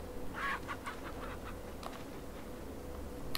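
A chicken in the video game Resident Evil 4 clucks in a few short bursts near the start, followed by quieter scattered clucks over a low ambient background.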